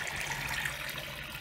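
Water drains from a betta fish tank in a continuous splashing gush, close and fairly loud and steady for the whole moment, with no voices.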